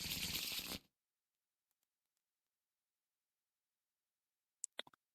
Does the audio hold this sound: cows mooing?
no